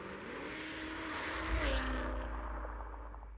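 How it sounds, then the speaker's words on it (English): A car exhaust sound effect layered into an edited sequence: a low, steady engine rumble with harmonic drone that swells around the middle and holds loud to the end, with no talking. "Then we add the exhaust."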